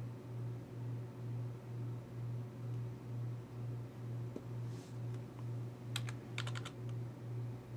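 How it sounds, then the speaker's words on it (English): Steady typing on a computer keyboard, a run of soft quick key clicks over a constant low pulsing hum, close and fairly quiet with no talking. "Oops, can't type on that keyboard"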